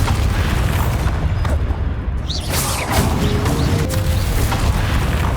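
A Bombarda blasting spell explodes during a spell duel in Hogwarts Legacy, a loud booming burst over a dense, continuous roar of battle noise lasting several seconds.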